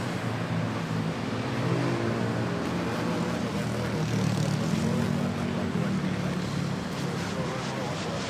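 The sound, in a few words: ATR 72-600 turboprop airplane engine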